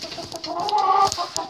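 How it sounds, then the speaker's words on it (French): A calm pet hen named Myrtille clucks steadily up close, soft repeated clucks and murmuring calls with a slightly rising note in the middle, with other fowl faintly around. "C'est une de mes poules les plus calmes."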